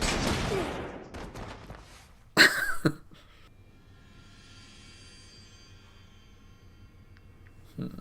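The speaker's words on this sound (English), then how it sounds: "Shoot him, Dean, come on." Gunfire from a scene in a Supernatural TV episode: a sharp, brief burst of shots in the middle, with another faint hit near the end. Voices are heard at the start.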